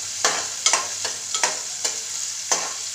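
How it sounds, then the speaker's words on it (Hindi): Chopped onion and green chillies sizzle steadily in a pan for Assamese dhekia saag, with close scraping stirs landing roughly every half second and no talking. "तो इसे मैंने एक कटा हुआ प्याज और कुछ हरी मिर्ची डाल दी है मैंने तीखा के लिए। इसको हम हिला लेंगे"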